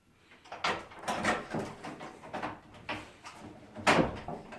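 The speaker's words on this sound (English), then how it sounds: "Point and close the door up." A cabin door is swung shut, giving a series of close, hollow thuds and latch clunks, with the sharpest, loudest knock near the end and no talking.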